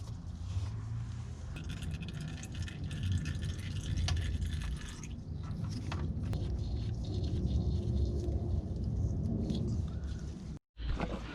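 Engine oil draining from a Mazda RX8 under teardown, a steady close splattering trickle and patter into a pan, continuous and fairly loud, ending in a brief cut.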